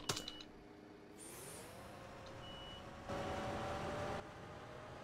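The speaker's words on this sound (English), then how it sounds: "Oh, this bus is quite loud." Van Hool A120 bus engine in the OMSI 2 simulator, with a steady low drone that rises in pitch as it revs, a brief knock at the start and a louder stretch of engine noise midway, no talking.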